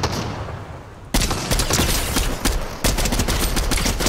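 Rapid video-game gunfire crackles in dense bursts, with a sharp volley starting after a quieter opening and fresh rattling bursts continuing through, loud and close-sounding rather than faint.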